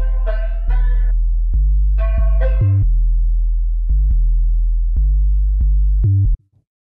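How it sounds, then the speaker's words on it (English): Deep synthesized 808 bass built from a sine wave on FL Studio's 3x OSC, a series of booming sustained notes with clicky attacks, mixed with brief higher synth stabs near the start, then cutting off abruptly. "So, pretty straightforward, kind of like 808 sound."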